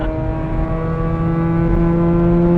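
A Nissan S15 drift car's engine drones at steady high revs in third gear, a loud, continuous, rich tone heard from inside the cabin and slowly climbing in loudness, with no talk over it.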